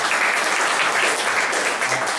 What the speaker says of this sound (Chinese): 那我们是不是先给两位讲者一点掌声